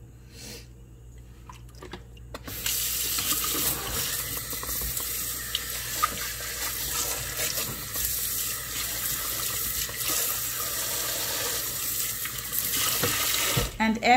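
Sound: water running in sink while rinsing menudo tripe

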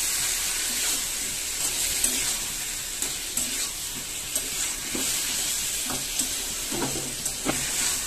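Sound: curry masala sautéing in oil with water

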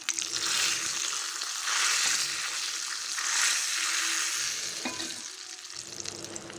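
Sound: cumin and mustard seeds crackling in hot oil for tempering

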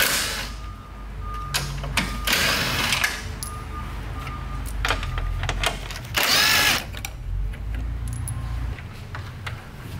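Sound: power tool with 10 mm socket removing truck grille

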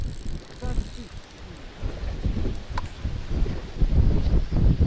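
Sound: wind blowing

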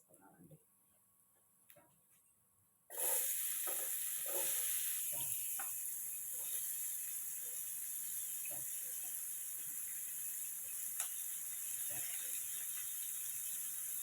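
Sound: onions frying in oil

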